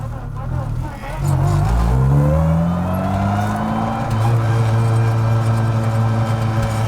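A Honda Civic Si engine revs and drones steadily with a rising gear whine from its built transmission layered over it, loud and close throughout.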